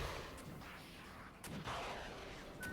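Anti-tank vehicles trade fire in a Regiments combat video game, a few booming cannon shots bursting over constant dense battlefield rumble, with no talking.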